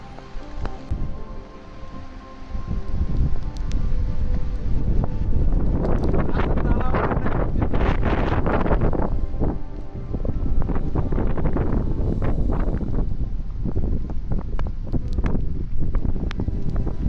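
Monsoon wind gusts at Rajdher fort near Nashik roar and buffet the microphone in long, loud surges, rising and falling over the whole stretch.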